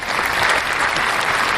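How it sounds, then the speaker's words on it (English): Applause sound effect played during a talk show, a steady wash of clapping hands that stays loud and even throughout, with no voices over it. "you played the applause"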